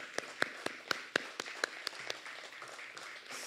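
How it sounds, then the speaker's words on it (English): A small festival crowd at a Sequim Irrigation Festival kickoff auction applauds a helper with a handful of distinct claps that come in a loose rhythm and trail off into a faint murmur. "So round of applause for Jane"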